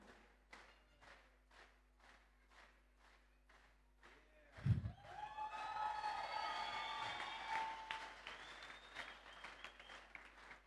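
Audience applause at a father-and-son award and gift ceremony: scattered rhythmic clapping that suddenly swells into loud, sustained applause mixed with cheers and whistles through the rest of the clip.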